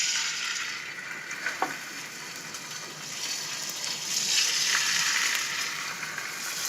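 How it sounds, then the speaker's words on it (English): Lamb chops sear in hot oil in a pan, giving a steady loud sizzle and crackle throughout, with a brief clunk as pieces go in and a swelling hiss partway through. "let me take the ones on the bottom that do have some of the oil and let me put them in"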